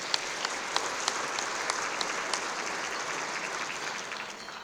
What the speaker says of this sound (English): So let's give the staff a round of applause.